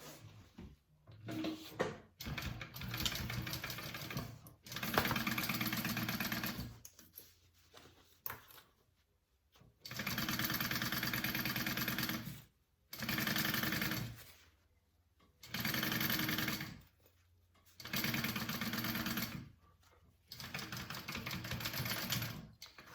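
A sewing machine basting a bag lining runs in bursts of a few seconds each, stopping and starting repeatedly with quiet handling between runs, fairly faint and without talk.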